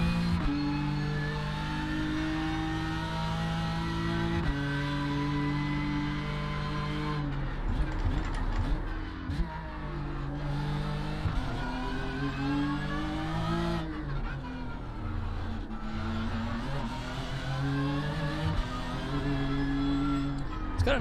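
BMW M4 GT3 race car engine in the iRacing sim, a steady loud harmonic drone that climbs and falls in pitch through gear changes and revs as laps are driven, up close and continuous throughout.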